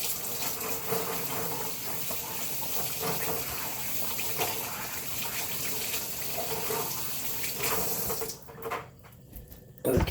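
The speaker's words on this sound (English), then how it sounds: "I'm gonna wash my hand." Hands being washed under a running kitchen tap while making a punch bowl cake, a steady close gush of water that cuts off near the end, with no talking.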